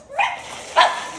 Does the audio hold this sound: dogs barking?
yes